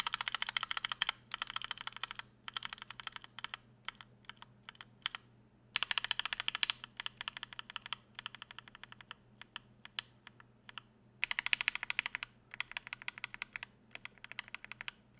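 Stock JWK Tangerine linear keyboard switches, with only factory grease on the stems, produce steady bursts of quick, plasticky, slightly tinny key clacks with brief pauses between runs.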